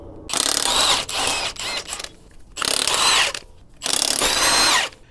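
A power ratchet or impact tool works lug fasteners to pull a wheel spacer off a 100 series Land Cruiser hub, three loud close whirring bursts separated by short pauses, with no talking.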